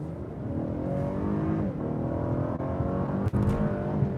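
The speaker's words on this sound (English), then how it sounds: "give a bit of acceleration here as we go out" A 2021 Lexus LS 500 accelerating from inside the cabin, a smooth steady engine and road drone rising gently in pitch, with a couple of brief clicks and no talk.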